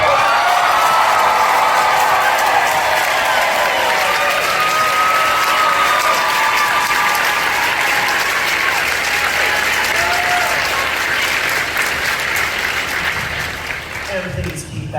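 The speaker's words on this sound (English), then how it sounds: "All right, I want you to keep that noise going for Lazelle." A convention hall audience at Dragon Con 2024 applauds and cheers loudly and steadily throughout, a dense wash of clapping with scattered whoops that eases slightly near the end.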